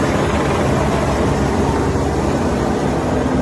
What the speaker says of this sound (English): if you listen, these are helicopters too